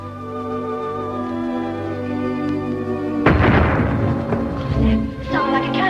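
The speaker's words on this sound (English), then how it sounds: "It was a cannon." A cannon fired from French battleships booms once with a sudden heavy blast over a steady background of orchestral music, followed by rumbling and a second, softer report.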